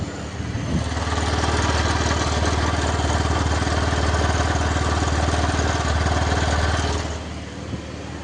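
A Honda Activa scooter engine starts after a brief pause and settles into a steady, close, loud idle hum that runs evenly for several seconds before cutting off near the end.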